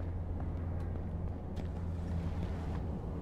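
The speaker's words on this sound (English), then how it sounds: "Actually, now that I hear that car, I'm thinking no." A car engine in the battle-royale game H1Z1 drones as a low, steady rumble that fills the whole stretch at moderate level, with no voices over it.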